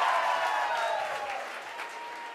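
Concert audience applauding at a show in Madrid, dense broadband clapping that stays loud and steady, then eases off slightly toward the end, with no voices on top.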